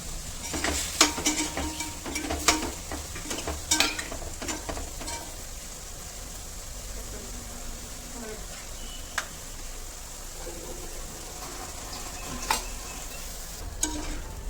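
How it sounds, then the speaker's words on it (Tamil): Tomatoes and paneer sautéing in a pan for paneer mutter korma give a soft, steady sizzle close by, broken by several sharp spatula clinks and scrapes against the pan, loudest early on. "நல்லா சாஃப்டா வதங்கி வந்துருச்சுங்க. பன்னீரும் நல்லா இந்த பக்கம் ஃப்ரை ஆகி வந்துருச்சு"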